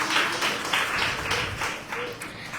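Congregation at a Sunday church service clapping loudly in praise, in rhythmic bursts of hand claps that fill the room, with no voices over them.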